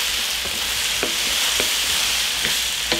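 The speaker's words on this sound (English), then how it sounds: "continue to stir fry until the broccoli is nice and tender, adding more sauce as necessary" Peppers, onions and broccoli stir-frying for sesame chicken, a steady loud sizzle in a hot pan with soft periodic scrapes and clinks of stirring.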